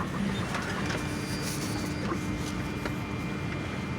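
A Miracle A7 key cutting machine cutting a GM 10-cut HU100 key, giving a steady mechanical whir and grind at an even level, close and continuous.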